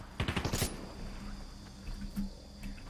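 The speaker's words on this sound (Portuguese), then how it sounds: "Esse tiro aqui" A quick burst of rapid gunfire in a video game, five or six sharp shots in a fast string, fairly loud, followed by a few fainter distant pops against a steady background hiss.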